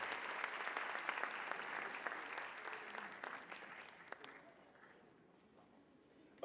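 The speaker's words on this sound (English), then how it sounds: "Give our young ladies a round of applause." A small gathering applauds a group of young dancers at a Polynesian dance event, with scattered claps and a few whoops close by that gradually thin out and fade over several seconds, and some voices in the background.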